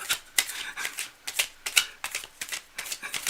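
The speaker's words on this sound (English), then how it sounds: "I'm just doing a last minute shuffle." A deck of tarot cards being shuffled up close, with irregular sharp riffles and soft slides that repeat in quick bursts, heard alone without speech.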